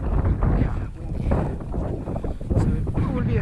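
Strong, cold wind gusts on an exposed mountain summit in Norway, a heavy low roar buffeting the microphone in uneven surges with no letup.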